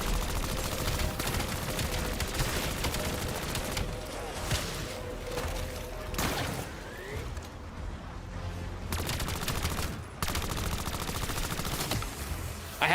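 SMG gunfire in Call of Duty: Black Ops 7 Zombies, with long rapid bursts of automatic fire broken by short pauses and reloads, steady and fairly loud, with no talking.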